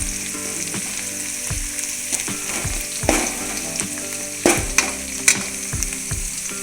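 Garlic sizzles steadily in hot oil in a pan for fish curry, a dense crackling fry with occasional louder spits and stirring scrapes, close and continuous with no talk.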